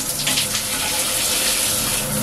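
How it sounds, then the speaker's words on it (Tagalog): Shower running hot water from a newly installed shower water heater, a steady loud hiss and splash of spray that continues unbroken. "buksan ko ngayon itong shower"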